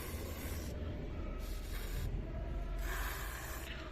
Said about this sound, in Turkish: şu temizleme spreyinden zincirimin şu görebildiğim gözle seçebildiğim noktalarına